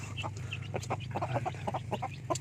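Rhode Island Red chickens, including a rooster, cluck repeatedly in short, scattered bursts over a steady low background hum, close by and moderately loud.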